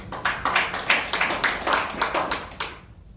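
A roomful of attendees at an emergency policy forum on the forced repatriation of North Korean defectors claps to welcome lawmaker Lee Jong-myeong for his congratulatory address, in clear, rhythmic bursts fairly close by that fade out at the end.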